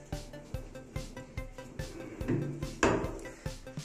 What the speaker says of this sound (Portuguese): Aqui nós temos duas gavetas laterais.